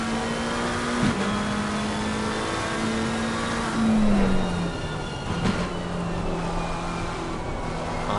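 An onboard race car engine in the racing game Assetto Corsa Competizione, lapping Barcelona, drones at a steady pitch, then its note drops through several quick downshifts and climbs again with a whining transmission tone underneath, loud and continuous, with no talk.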